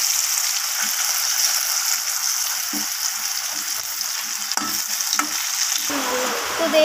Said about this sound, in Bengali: এরপর আমি গুঁড়ি কচুগুলোকে ভালো করে লাল লাল করে আমি ভেজে নেব